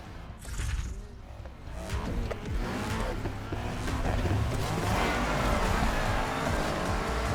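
A race car in Need for Speed Heat roars along under sustained engine drone that builds in intensity, with rising gear pitch, loud and continuous with no talking over it.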